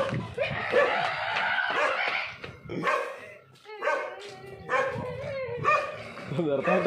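Dogs bark outdoors during a comedy shoot in the countryside. The barks come in short bursts mixed with people talking nearby.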